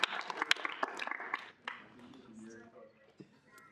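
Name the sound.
student senate small round of applause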